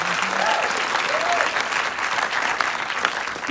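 Sustained audience applause fills a hall after a Q&A with actor Colman Domingo about the film Rustin, steady and fairly loud throughout with no break.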